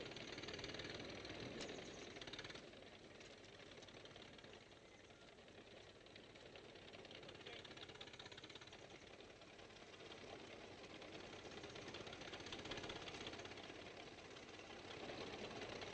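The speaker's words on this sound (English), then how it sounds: "Johnny got us a tractor." A tractor engine runs steadily with a rough, knocking mechanical chatter, fairly loud and continuous throughout with no voices.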